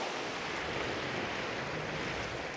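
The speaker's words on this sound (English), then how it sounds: "appreciate the sound of the waves" Ocean waves wash onto a beach in a steady, soft, distant rush that stays faint and even throughout, with no one speaking.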